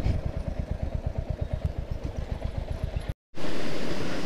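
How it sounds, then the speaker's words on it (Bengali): A motorcycle engine idles close by while being parked, its rapid even putter chugging steadily before a brief cut, then a loud broadband rush resumes. "বাইক আগে পার্কিং করে রাখি।"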